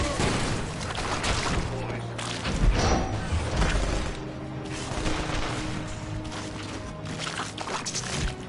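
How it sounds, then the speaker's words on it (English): Turrets in Marvel Ultimate Alliance 2 fire in heavy, rattling volleys amid clanking mechanisms and crashes, a busy loud mix with voices talking over the combat. "Turrets! Take them down before they cut us to shreds."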